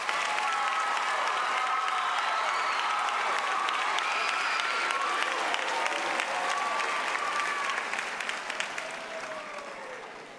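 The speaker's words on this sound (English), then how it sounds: "Please give them a round of applause." Sustained applause from a large high school commencement crowd honoring the maintenance and custodial staff, a dense steady wash of clapping lasting several seconds and tapering slightly at the end, with faint voices mixed in.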